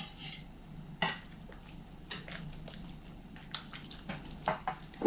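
Sifted flour being worked into a batter of milk in a bowl, with scattered light clinks and scrapes of a utensil against the bowl and soft wet stirring sounds, close and fairly quiet, with no speech.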